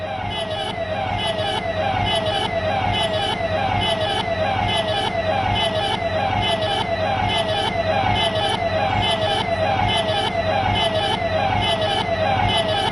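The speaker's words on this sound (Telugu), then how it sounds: "అదే పోలీస్ వాహనం." A police vehicle siren wails loudly and continuously, its rising and falling tones repeating steadily throughout with traffic noise underneath.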